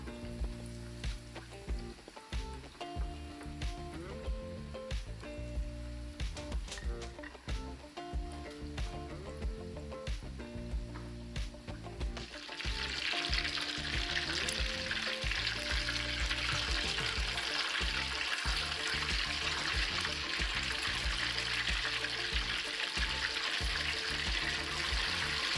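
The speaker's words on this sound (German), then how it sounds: "Wir setzen einen Topf mit reichlich Frittieröl auf und bringen es auf Temperatur. Die Croquetas vorsichtig hineingleiten lassen." Croquetas de jamón deep-frying in a pot of plenty of hot frying oil, a loud steady sizzle and bubbling that swells sharply partway through as more croquetas slide in, close and continuous.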